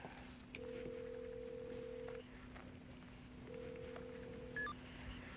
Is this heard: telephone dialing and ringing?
yes